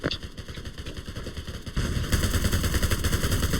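Rapid gunfire in the Blockade shooting game, a steady stream of quick crackling shots that grows louder and denser partway through.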